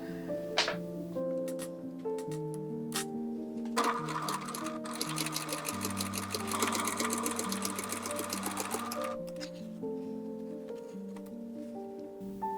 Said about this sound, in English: After I'm done pressing the side seam, I run a decorative stitch down the side.